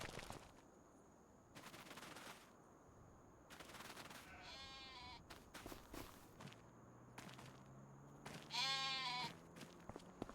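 Sheep bleat on a farm in a few wavering calls, one louder and nearer than the others, among shuffling footsteps and intermittent knocks.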